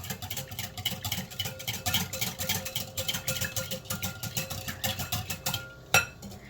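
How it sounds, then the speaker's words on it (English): Eggs and milk whisked together for crepe batter, a fast rhythmic clatter of a whisk against a bowl repeating steadily for several seconds, close by, ending with a single sharper knock. "And go ahead, whisk that up."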